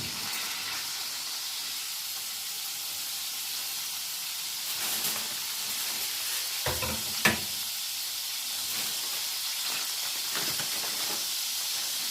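Pork chops sizzle in hot oil for a stew, a steady bright hiss that stays even and moderately quiet throughout, with a few brief louder spits and crackles partway through and no talking.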